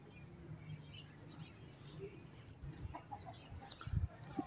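Chickens, a rooster and hens, cluck quietly in a rooftop coop among pigeons, soft scattered calls over a low outdoor background with a few louder bumps near the end.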